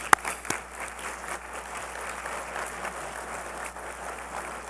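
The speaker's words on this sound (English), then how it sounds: "Yes, let's applaud." An audience at a regional conference gives steady, moderately loud applause, opened by a couple of sharp claps, continuing evenly with no voices.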